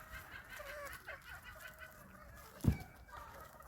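Homestead chickens cluck softly in the background, a scatter of short, faint calls with one brief thump partway through and no talking.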